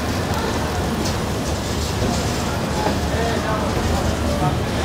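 The Chennai–Mumbai LTT Express rumbles along the rails in rain, a continuous dense roar of wheels and rainfall at steady loudness throughout.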